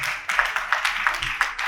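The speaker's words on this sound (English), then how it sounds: "A round of applause, please." Audience applause at the grand finale of the Enugu Film Festival, a steady patter of clapping hands from a modest crowd with a few sharper individual claps, filling the short moment without talk.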